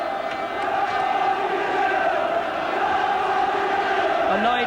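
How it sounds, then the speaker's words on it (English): A packed Hillsborough crowd at a 1985 Milk Cup night game between Chelsea and Sheffield Wednesday roars and chants steadily from a distance, a dense continuous wall of voices with a faint whistle near the end. "Just listen to the crowd."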